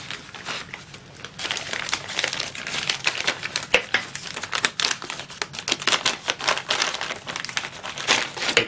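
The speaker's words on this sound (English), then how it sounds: "Take the plastic bag off and you can see it better" Continuous crinkling of a plastic bag handled up close, with sharp crackles and rustles throughout.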